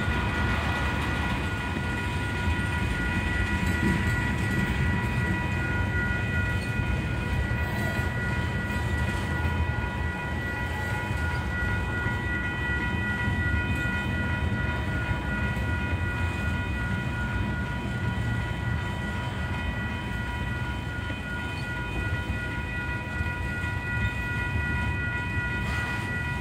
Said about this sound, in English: Come on, train, keep going, please.